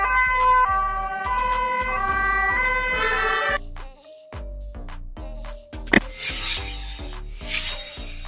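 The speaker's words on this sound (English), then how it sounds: "Airport rescue truck." An airport rescue truck's siren sounds as steady alternating tones over a thumping background music beat, loud and continuous, with a brief sharp burst near the end.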